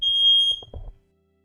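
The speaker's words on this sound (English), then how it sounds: "My fire alarm going off" A home smoke alarm gives one loud, shrill, high-pitched beep lasting under a second, with soft low knocks underneath, then the room goes silent.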